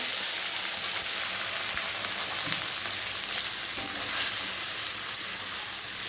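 A ground paste of onion, green chilli, tomato and spices fries in oil for a pomfret fish curry. A steady, close, dense sizzle runs throughout, broken by one brief clink partway through.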